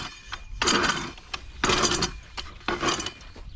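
A push weeding tool cuts through garden weeds in three rhythmic bursts of scraping, rattling and ratcheting metal, close by, with short quiet pauses between strokes.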